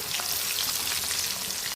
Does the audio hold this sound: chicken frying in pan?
yes